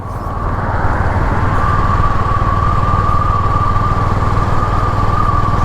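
Honda Highness CB 350 motorcycle carrying two riders, its engine droning steadily and loudly at close range as the throttle opens and settles into a constant cruising hum, with no talking.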